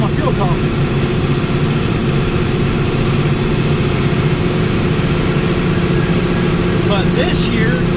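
A lawn mowing tractor in its first season runs steadily throughout, a constant low, rumbling engine drone with no pauses or changes in pace.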